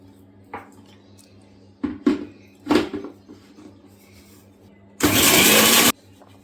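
A short, loud whir of a mixer grinder blending ginger, green chillies and salt, lasting about a second, preceded by scattered clinks and knocks of the jar and utensils in a home kitchen.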